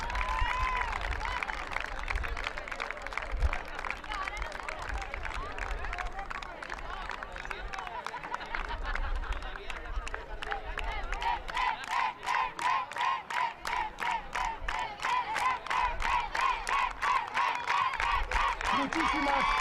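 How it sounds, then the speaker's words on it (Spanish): Crowd applauding and cheering for the girls' Spanish Sub-14 basketball champions at a trophy ceremony, loud and sustained. Rhythmic clapping emerges in the second half, with shouting and voices mixed throughout. "Un aplauso fuerte para las campeonas de España."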